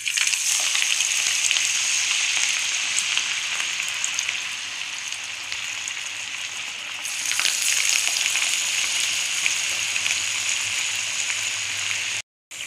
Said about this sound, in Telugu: ఇప్పుడు ఇలా అప్పల్లా చేసుకునేవి ఇవి ఆయిల్లో ఫ్రై చేసుకున్నాం